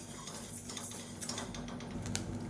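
Black kavuni rice dry-roasting in a small kadai, a steady close rattle of grains with scattered light clicks and ticks against a low hum, no voices.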